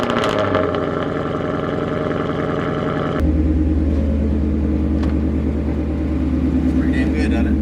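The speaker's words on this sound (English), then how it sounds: "we'll get ready and we'll do a little run around the block and just see how it shifts" A car with a newly fitted short throw shifter is driven around the block, its engine droning loud and steady, dropping to a deeper rumble after a shift partway through, with voices talking over it.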